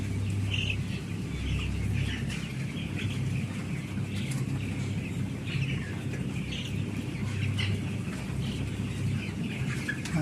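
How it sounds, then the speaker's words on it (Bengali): A crowd of 17-day-old broiler chickens clucks and chirps continuously inside an automated poultry farm house, a dense, steady chorus with a low machine hum running beneath it. "দেখেন 17 দিনের মুরগি"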